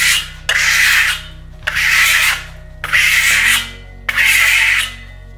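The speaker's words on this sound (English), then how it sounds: "if you want a lot of texture, you're gonna have to burnish a lot" A trowel burnishes Venetian plaster on a wall in four loud, rasping strokes of about a second each, separated by short pauses, close up and with no talking over them.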